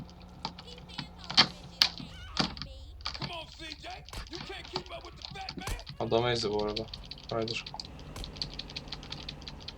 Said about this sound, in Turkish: Çok fazla klavye sesi çıkacağından biraz endişeleniyorum açıkçası.